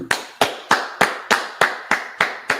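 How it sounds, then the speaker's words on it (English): Eight sharp, evenly spaced claps ring out loud and close at a live rally in Washington D.C., a steady rhythmic clapping with no talk over it. "clap it up"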